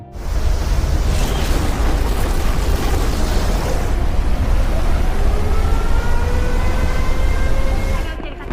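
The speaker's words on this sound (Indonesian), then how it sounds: "terdengar suara sirine peringatan tsunami berbunyi" Tsunami warning siren sounding in a film about the Fukushima disaster, a loud sustained wail with slowly shifting tones over a dense rumbling background throughout.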